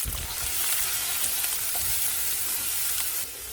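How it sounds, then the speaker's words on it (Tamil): Mustard seeds, urad dal and onion fry in hot oil in a pan, giving a loud, close, continuous sizzle with crackling pops that stays steady throughout before easing slightly at the end. "எண்ணெய் சேர்த்து கடுகு உளுந்து பொரிய விட்டு காரத்துக்கு தகுந்த மாதிரி பச்சை மிளகாய்"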